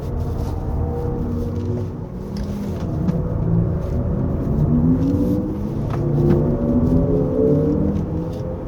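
A 2025 Hyundai Ioniq 5 2WD on 19-inch wheels plays its artificial active driving sound: steady synthetic tones that glide up and down in pitch over a continuous low road rumble on a winding road.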